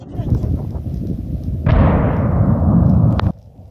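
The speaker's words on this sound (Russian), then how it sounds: "Специалисты стали активно взрывать лед, чтобы пропустить воду и избежать дальнейшего наводнения." A blast set off by crews breaking up a river ice jam during spring flooding on the Biya in Altai Krai: a sudden loud broadband burst about midway that rumbles on and then cuts off, following low background noise.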